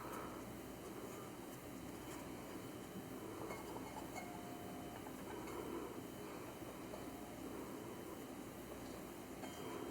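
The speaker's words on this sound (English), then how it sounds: "There goes the train again." A train rumbles past at a distance behind a quiet room, a steady low broadband roar with faint metallic clinks, continuous and even for the whole stretch.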